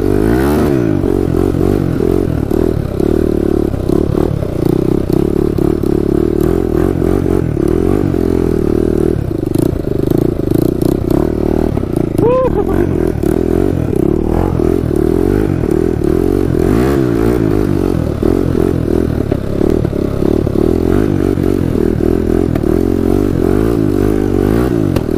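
A worn quad ATV with an exhaust leak idles and revs for a long, loud stretch nearby, its throttle rising and falling, with clattering and intermittent pops from the exhaust.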